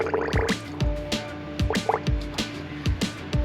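Coolant bubbling and gurgling as it is drawn into the cooling system of a C10 pickup truck, with a series of close, distinct plops and liquid glugs in an uneven rhythm.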